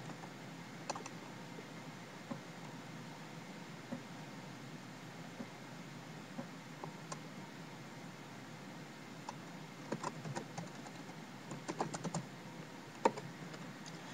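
Typing on a computer keyboard while entering text in animation software: faint, scattered keystrokes in irregular bursts over a quiet background hiss, with no talking.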